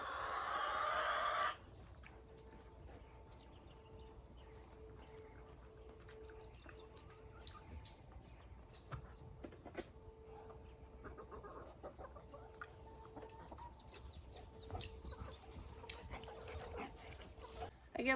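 Roosters with big spurs clucking and crowing as they are let out of their coop during morning chicken chores, a dog whimpering nearby and a loud burst at the start, with steady low farmyard noise throughout.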